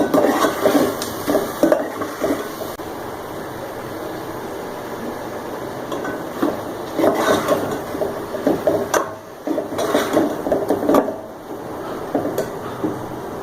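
Ginger garlic paste sautéing in a pan for a gobi gosht curry, with steady sizzling and frying plus intermittent spoon scrapes and stirring clatter against the pan, close and alone.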